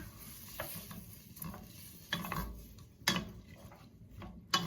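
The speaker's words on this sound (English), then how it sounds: "while it's still melting, I'm going to add 1 cup of chopped onion. Give that a good stir." Chopped onion being stirred into melting butter in a pan, with a soft low sizzle and a few clinking, scraping spoon strokes, quiet and close, with no voices.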